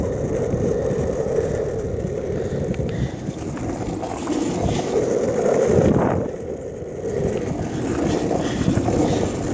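Strong wind buffets the microphone during outdoor skating, a loud continuous rumbling roar with gusty swells, mixed with the steady rolling of wheels on pavement.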